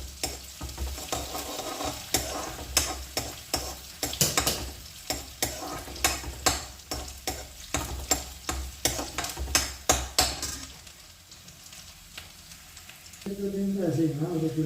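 Onion, garlic and ginger browning in a pan with a spoon stirring them, giving a steady sizzle broken by repeated scraping strokes, with a louder burst of sizzling near the end.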